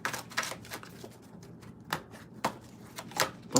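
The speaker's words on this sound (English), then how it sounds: "Okay, two more shuffles." A deck of tarot cards shuffled by hand in a quiet room, giving a run of soft, quick riffles and taps in irregular bursts, close and fairly faint.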